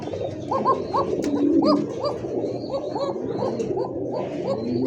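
Koka pigeons at a breeding farm cooing, a steady run of repeated rising coos close to the listener, layered over continuous background bird calls and a low murmur.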